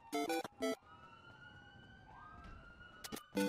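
Police sirens wail in the video game GTA 5, a steady rising and falling tone throughout, with short loud electronic blips at the start and end.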